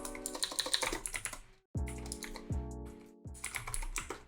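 Keys clatter in quick bursts on a computer keyboard, close up, with a brief pause midway before the typing resumes.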